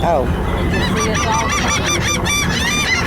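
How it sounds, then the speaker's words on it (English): Gulls calling in a dense, overlapping flock around the bow of a boat in a ship channel, their loud honking, wavering cries continuous throughout, with a brief spoken remark mixed in. "That is the sound of people feeding the gulls off the front of the boat"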